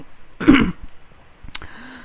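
A person gives one short, rough throat-clearing cough up close, followed by a faint click and a quiet background.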